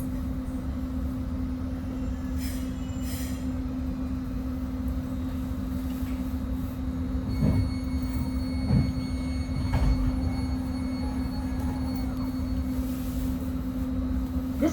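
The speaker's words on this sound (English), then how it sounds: "This is northbound local train 107 making all stops to San Francisco." A Caltrain northbound local train runs steadily, with a constant low hum and rumble from inside the car and a few faint clunks, and no talking.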